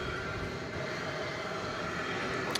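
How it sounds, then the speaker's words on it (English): American Airlines Boeing 737 MAX 8 at DFW airport at night, a steady distant jet engine roar with a faint whine holding evenly throughout. "MAX 8 American Airlines plane"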